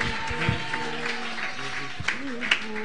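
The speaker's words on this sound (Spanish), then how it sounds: "un aplauso fuerte" Applause from a church congregation during an evening worship service, a broad steady wash of clapping with a few sharper claps and voices heard faintly through it.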